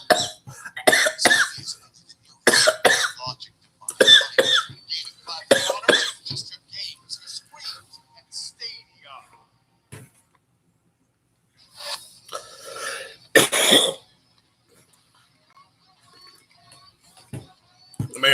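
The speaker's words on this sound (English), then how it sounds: "how many of those coughs were real and how many were fake?" A man coughs and clears his throat in a run of rough, close bursts, then goes quiet before a few more hacking coughs, with some talk mixed in.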